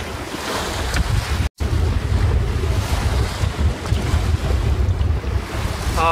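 A trailer sailboat runs single-handed at sea near Magnetic Island, with loud continuous wind buffeting the microphone and rushing waves, broken briefly by a short dropout.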